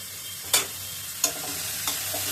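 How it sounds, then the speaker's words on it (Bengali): Rice and lentils frying in a pan for khichuri, a steady soft sizzle broken by three sharp scraping stirs at roughly even intervals. "ভালো করে একটু ভেজে নেব"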